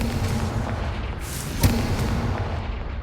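A Confringo blasting spell in Hogwarts Legacy goes off as a single sharp explosive crack with a short boom over a steady background wash.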